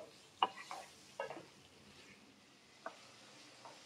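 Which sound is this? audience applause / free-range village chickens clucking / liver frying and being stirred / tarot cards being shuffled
liver frying and being stirred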